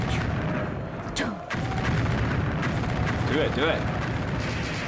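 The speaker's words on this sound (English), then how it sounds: "Oh yeah, the explosion." A loud, brief blast bursts out amid the noise of a live Barcelona versus Atalanta Champions League watch-along stream, while people talk over a steady rumble.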